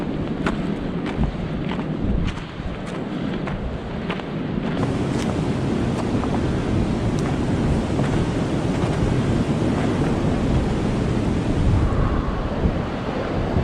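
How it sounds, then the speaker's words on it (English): Wind roars steadily on a winter mountain hike in the Catskills, a loud, constant gusting rush buffeting the microphone for the whole stretch with no talking. "Windy."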